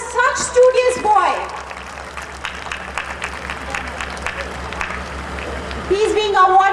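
An audience at a school annual day in Delhi claps for a studious boy being honoured. The applause fills the middle of the clip, with a voice speaking before and after it.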